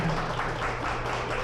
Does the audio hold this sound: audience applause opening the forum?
yes